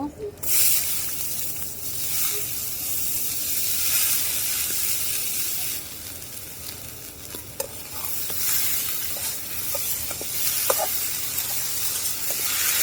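Potatoes and onion with salt and turmeric fry in a pan, a steady loud sizzle with a stirring scrape now and then and occasional sharp ticks, no talking.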